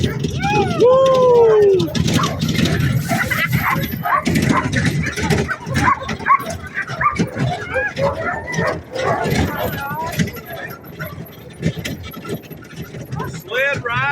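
A team of sled dogs hauling a heavy summer sled ride yelp, whine and bark amid jingling harness noise and constant movement, with people talking and cheering over the commotion.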